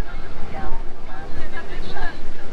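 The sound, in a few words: waves crashing against the port side of a boat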